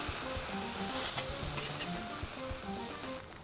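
A spatula scrapes sizzling smash-burger bits off a hot flat-top griddle. Dense frying hiss fills the scene, broken by short scraping strokes. No voices.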